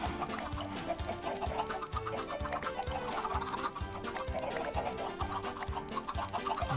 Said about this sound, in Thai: ไก่เราก็เริ่มเยอะแล้วเนี่ยเริ่มชุลมุนวุ่นวายละ